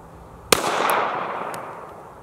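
A single sharp shot from a Springfield Armory Hellcat pistol at a shooting range, one loud crack at the half-second mark with a long decaying echo and a fainter pop afterward.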